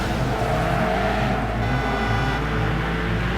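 Race cars in the PC game Need for Speed Hot Pursuit roar with a continuous, loud engine drone and shifting pitch, a dense mechanical rumble filling the whole short stretch.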